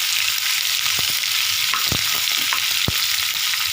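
Beetroot and chili sautéing in a hot pan give a steady, close sizzle throughout, broken by a few sharp scrapes and stirs of the spatula.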